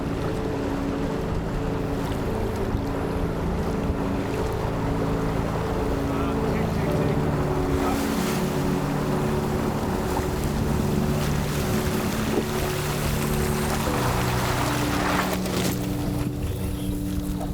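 A wheeled amphibious Arctic lander vehicle moves through water with a steady engine drone, hull splashing and wind buffeting throughout, with surges of water noise building partway through.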